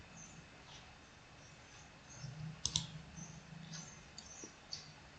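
A few sharp computer mouse clicks sound close and fairly quiet near the middle, with softer taps scattered among them over a low, steady background hum.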